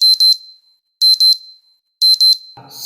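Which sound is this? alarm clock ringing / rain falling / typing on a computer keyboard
alarm clock ringing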